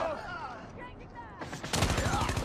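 Rapid automatic gunfire from a weapon in Call of Duty Mobile multiplayer, a loud sustained burst breaking in after quieter game sounds.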